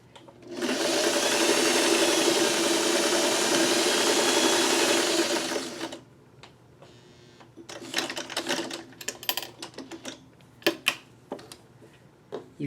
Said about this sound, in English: Now I'm going to sew 1/4 of an inch here and 1/4 of an inch here.